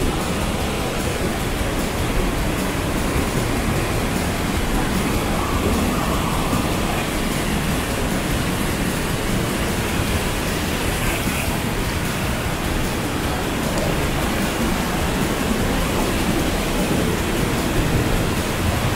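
The Lakshman Ganga river rushes near Ghangaria in Uttarakhand, a loud, constant roar of churning water that stays unbroken throughout.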